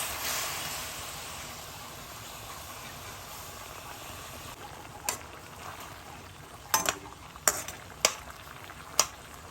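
Papaya pieces bubbling in boiling sugar syrup in a pan for a papaya chutney, a low simmering hiss topped by several sharp scraping stirs clustered toward the end.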